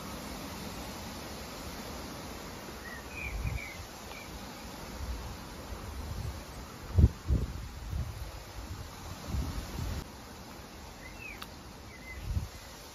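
Steady outdoor wind rushes and buffets the microphone, with a few low gusty thumps and faint insects chirping in the background.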